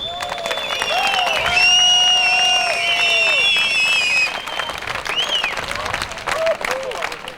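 Audience applause for Helmut Zuchfelde and his company at the Jõgevatreff 2001 event, a sustained clapping crowd mixed with loud tonal music and sirens of sound, fading after a few seconds.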